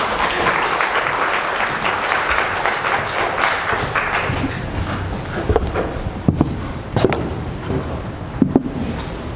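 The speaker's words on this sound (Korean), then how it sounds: "박수 한번 환영했습니다." Church congregation applauding together to welcome the pastor, a steady, dense wash of clapping throughout with a few sharper claps standing out near the end, no speech over it.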